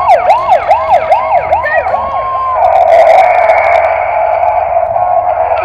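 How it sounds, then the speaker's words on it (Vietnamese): A pink toy ambulance sounds its siren, a loud wailing electronic tone in quick repeated rises and falls that shifts to a steadier higher warble partway through, with no talk over it. "xe cứu thương màu hồng"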